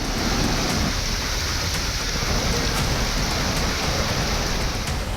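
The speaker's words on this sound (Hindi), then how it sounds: "लगातार हो रही मूसलाधार बारिश से जूनागढ़ के लोग बोल उठे हैं" Heavy torrential rain pouring down in Junagadh, a dense loud unbroken hiss of water striking surfaces, steady throughout with no voices.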